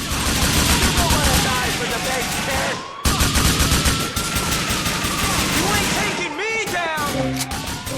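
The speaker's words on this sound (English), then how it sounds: "you can only spot them through flashes of gunfire" Rapid, dense gunfire in Grand Theft Auto IV rattles almost continuously, loud and close, with bursts overlapping and a brief pause near the middle.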